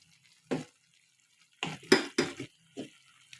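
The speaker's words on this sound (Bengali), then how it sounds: "মিক্স করে নিচ্ছি।" Spices being stirred into homemade amra (hog plum) pickle, giving a few soft, scattered clinks and scrapes of a spoon against a bowl, with quiet gaps between them.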